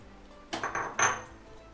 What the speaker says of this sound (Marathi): तर आता आपण परतून घेतोय.